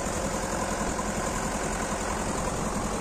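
MTZ-80 tractor engine idling just after starting in wet snow, a steady low rumble with faint vibration, constant and unbroken for a few seconds.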